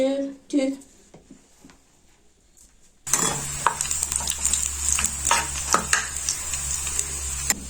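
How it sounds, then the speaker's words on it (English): Onions frying in a pan until golden brown, a steady close sizzle with scraping stirring strokes and utensil clinks, starting after a brief bit of talk and a quiet pause. "our onions are ready. They're golden brown."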